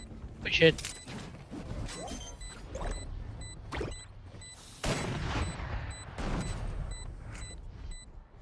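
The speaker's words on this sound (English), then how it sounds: "Oh love explosions" Sharp explosions and gunfire bursts in a ranked Valorant match pop repeatedly amid chatter, some booms louder, others distant and faint.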